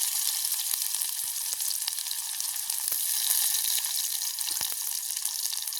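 Onions dropped into hot oil sizzle and spit steadily in a village kitchen pan, a dense, continuous frying hiss scattered with sharp pops and crackles, with no talking.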